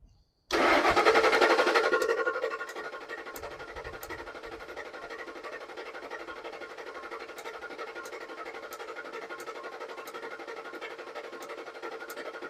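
A 2003 Ford F150 with the 4.6L 2V V8 and a misfire cranks steadily after a short pause, a loud rhythmic starter churn that eases into an even repeating drone for the rest of the clip.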